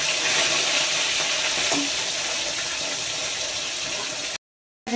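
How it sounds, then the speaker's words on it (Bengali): Potatoes and tomatoes fry in hot oil in a home kitchen, giving a loud, continuous sizzle and hiss up close that stops abruptly just before the end. "তেলের মধ্যে আমি আলুটা দিয়ে তারপর সব টমেটোটা দিয়ে দিয়েছি"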